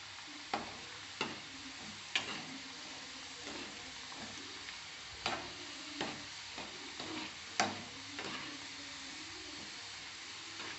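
Gavvalu, spicy karam shell-shaped dough snacks, frying in hot oil: a steady close sizzle runs throughout, broken by a handful of sharp clicks and taps from a utensil against the pan.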